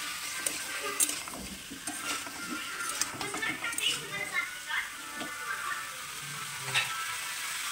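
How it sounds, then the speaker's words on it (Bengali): Spiced chicken with salt is stirred in a pan, giving soft scraping and clinking of the utensil against metal over a low sizzle, fairly quiet and irregular. "এবার ভালো করে নাড়াচাড়া করে নেব।"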